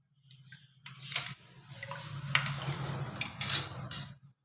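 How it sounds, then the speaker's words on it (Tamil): A ladle stirs and scrapes inside a pot, a few clinking metal strokes and brief scraping sweeps up close against quiet. "கரண்டியால் நல்லா கிண்டிக்கணும்."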